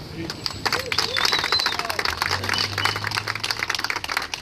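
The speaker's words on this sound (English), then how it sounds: "Clap it up!" A crowd claps at an outdoor spring neighborhood cleanup event in Philadelphia, a steady dense patter of many hands sustained throughout, with other voices faintly audible in the background.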